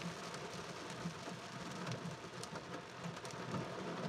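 Steady rain hiss during a motorcycle ride in extreme weather, with continuous broadband wash and low engine-like rumble throughout, moderately loud and unbroken, no talking.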